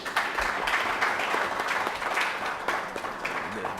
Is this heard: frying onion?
no